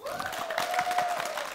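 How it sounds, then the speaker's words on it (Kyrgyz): Applause from the audience at a Kyrgyz couples' competition show, a brisk scatter of clapping with a sustained tone and crowd murmur running through it. "Алан биз улантабыз, кана бир кол чабуулар."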